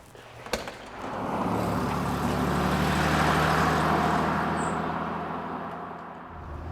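A 1963 Alvis TE21 Saloon with its 3-litre engine, driving along, gives a steady low engine drone that swells after a brief knock, holds, and then eases slightly. There is no talk over it.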